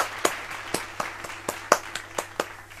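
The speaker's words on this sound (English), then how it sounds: "Let me give you an applause." A teacher claps for children in an online class, about nine sharp, evenly spaced claps from a single pair of hands, close and fairly loud, with a low steady hum beneath.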